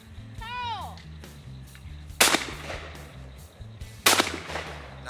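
Two sharp shotgun blasts ring out about two seconds apart at a clay target shooting competition, with a low engine hum and a brief voice in the background.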